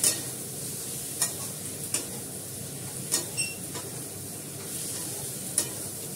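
A ground spice mixture of dried chilli, bay leaf, cumin, coriander, cinnamon, cloves and black pepper sizzles in a pan, with a steady fry hiss and several sharp scrapes and clinks from stirring at irregular intervals.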